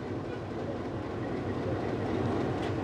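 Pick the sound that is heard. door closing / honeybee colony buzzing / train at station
train at station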